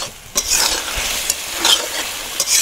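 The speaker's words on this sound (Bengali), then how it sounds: "এবার দিয়ে দেবো মটরশুঁটিগুলো, দিয়ে মটরশুঁটি ফুলকপি ভালোভাবে কষাতে থাকি।" Peas and cauliflower sizzle steadily in a pan for a vegetarian cauliflower roast, broken by several sharp scraping strokes of a spatula as the vegetables are stirred.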